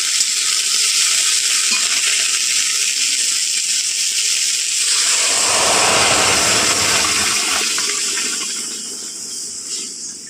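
Drumstick flowers frying in tempered oil for moong dal, a loud steady hiss and sizzle that swells midway as the flowers are stirred, then settles.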